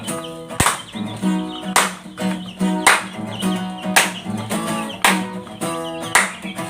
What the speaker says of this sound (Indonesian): Sambil tepuk tangan yuk.